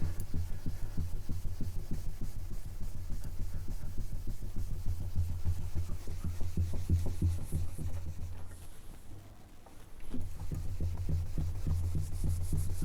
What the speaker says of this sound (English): because we are removing it with the cloth, it's leaving a really nice shiny surface behind